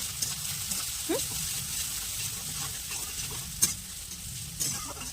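Onion frying in oil makes a soft, steady sizzle at moderate distance, broken by a few stirring clinks and scrapes, with faint talk in the background.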